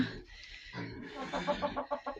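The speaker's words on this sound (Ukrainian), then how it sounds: "Молодий півник." A young cockerel gives a short, rough crow close by, rising and breaking into a few choppy pulses.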